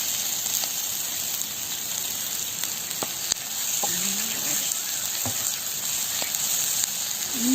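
Dried prawns fry in hot oil with a steady, soft sizzle and occasional small pops and crackles, fairly close and with no talking.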